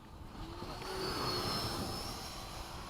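A small RC Hawk model airplane flies at a field, its electric motor whining steadily at a distance, rising slightly then fading, with no talk over it.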